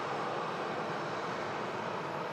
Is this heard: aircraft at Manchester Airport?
yes